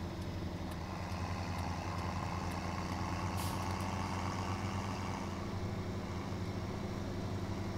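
A vehicle drives in the Landwirtschafts-Simulator 17 farming game, a steady low engine drone rolling along at a quiet, constant level.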